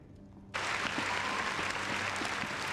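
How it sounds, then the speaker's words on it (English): After a quiet moment, a sudden burst of applause cuts in during a Dragon's Dogma 2 gameplay stream and continues as dense, steady clapping, likely a sound effect. "Big shout out to my boy Vic. Man, round of applause."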